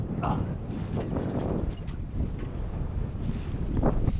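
Wind buffets a small sailboat sailing solo around the UK coast: a constant, loud, close roar of gusts across the microphone, mixed with rushing water, with no clear speech.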